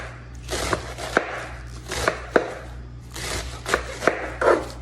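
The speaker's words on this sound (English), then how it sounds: "Let's do some nice little slices on it." A kitchen knife slices through cabbage on a cutting board in a series of crisp, close chops, spaced in small clusters with sharp board knocks and short crunchy cuts, no talking.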